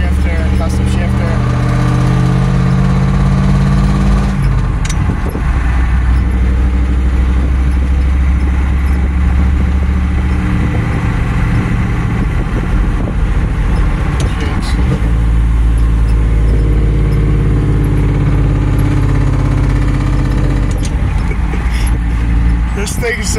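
A naturally aspirated Ford 7.3 IDI diesel truck with a ZF5 manual transmission pulls hard through the gears, its loud, steady diesel drone rising and dropping with each shift, while someone talks throughout.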